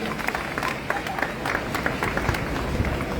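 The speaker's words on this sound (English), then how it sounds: "A big round of applause for Uncle Gary" An outdoor crowd at a Free Palestine rally in Melbourne claps together, a dense continuous patter of many hands with scattered sharper claps and faint crowd noise underneath.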